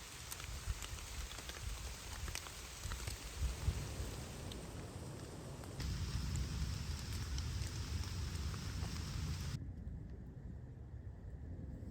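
Steady rain pattering on leaves and ground in a forest in July, a dense continuous hiss with occasional louder drips, fairly close and unbroken throughout.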